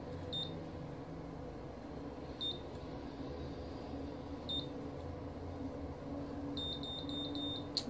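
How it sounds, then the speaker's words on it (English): A Conair Infiniti Pro curling iron beeps: short, high electronic beeps at spaced intervals, then a quicker run of beeps near the end, over a steady low background hum. "It's going to beep 3 times."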